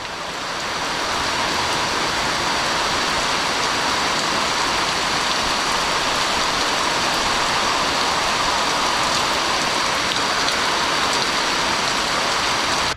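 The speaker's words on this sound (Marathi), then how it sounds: "पाऊस आला की एकदम जोरदारच येतो आहे" Heavy rain pours down on a forest beside a village, a dense, unbroken hiss of falling water that stays loud and even throughout, with no voices.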